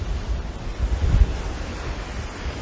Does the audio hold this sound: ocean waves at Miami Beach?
yes